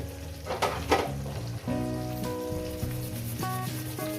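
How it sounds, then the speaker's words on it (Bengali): Kachki fish with vegetables, turmeric, cumin-coriander powder and crushed ginger sautéing in a pan, a steady close sizzle with a couple of brief scraping stirs near the start. "এটাকে দিয়ে একটু কষিয়ে নেবো"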